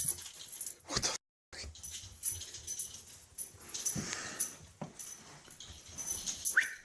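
A dog whimpers and whines in a noisy indoor space, its thin cries rising and falling with short breaks over steady background clatter.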